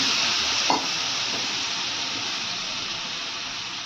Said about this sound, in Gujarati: તો પહેલાં આપણે ઘી મૂકી દીધું છે અને ઘીમાં આપણે ગોળ નાખી દઈએ